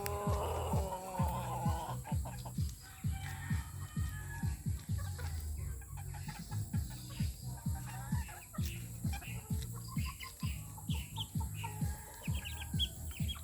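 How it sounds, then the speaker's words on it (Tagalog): Breeding chickens, white Kelso gamefowl, cluck repeatedly in a close, steady rhythm of short pulses throughout, with other birds calling in the background of the farmyard. "Ito yung mga manok kong palahi guys."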